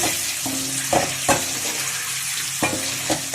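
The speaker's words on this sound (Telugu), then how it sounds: "ఇలా కలుపుతూనే ఉండాలండి, లేదంటే కళాయి కంటుతూ ఉంటుంది" Tomato egg curry sizzles in a frying pan while a spoon keeps stirring and scraping, a steady close frying hiss broken by regular scraping strokes.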